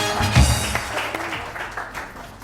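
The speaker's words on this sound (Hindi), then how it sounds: "बहुत सारी तालियां वसीम बादामी के लिए होनी चाहिए" Applause rises during an Eid television lounge show, a burst of clapping that starts strongly and then thins into a lighter, steady patter, with background noise throughout.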